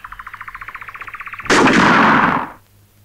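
A single loud gunshot blast from a gun fired at a chokha, the traditional Georgian coat, bursts in after a rhythmic pulsing buzz and rings out for about a second before dying away.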